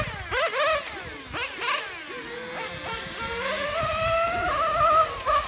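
A nitro RC car with an OS Speed 2103R engine races past, its high-pitched buzzing whine rising and falling as it accelerates and brakes, then holding a steady scream, loud and close with no talk.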